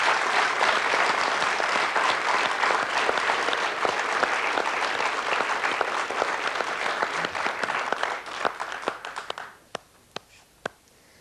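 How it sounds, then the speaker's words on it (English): A studio audience claps steadily for sequence dancers on a 1987 variety show, a full, even wash of applause that thins to a few scattered claps near the end. "A round of applause there, ladies and gentlemen, for our sequence dancers."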